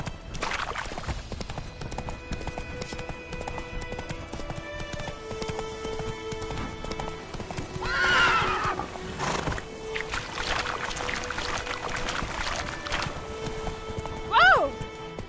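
Roach the horse in a PS4 video game, hooves clip-clopping steadily at a gallop with a short whinny near the end, under a person talking.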